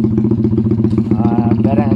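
Honda XRM motorcycle with a 130cc big-valve engine build, running steadily close by with a throaty, pulsing exhaust and a brief rising rev, and a voice talking over it.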